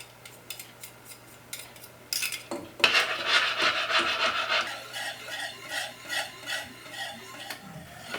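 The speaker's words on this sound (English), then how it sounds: "I'm going to stir the spoon around to get it all off of the spoon" A spoon stirs and scrapes through a thick flour and butter paste for a gluten-free turkey gravy, making steady rasping rubs that swell in the middle and continue in rhythmic strokes.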